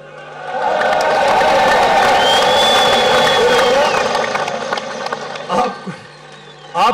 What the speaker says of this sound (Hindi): आपने इसके ऊपर इतनी कम ताली बजाई है।